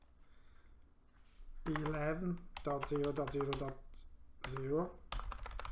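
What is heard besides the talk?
typing on a computer keyboard in Packet Tracer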